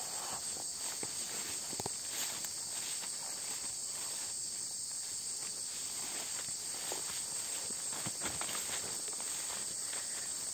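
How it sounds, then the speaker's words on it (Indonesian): Forest crickets chirp steadily in a dense, continuous high-pitched drone, with occasional faint rustles and footsteps close by and no talking. "Suara jangkrik hutan."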